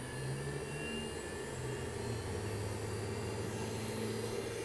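A modified hard drive with added weight on its platter spins up as a gyroscope, a steady whirring hum with faint tones slowly climbing in pitch as it gains speed, close and continuous.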